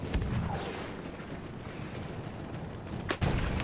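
Tank cannon fire in the World War I shooter Battlefield 1, a loud rumbling barrage of heavy booms and crackling blasts throughout, with a sharp, close explosion near the end.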